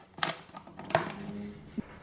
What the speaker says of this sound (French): Je fais un trou avec le cutter et je vais finir avec les ciseaux.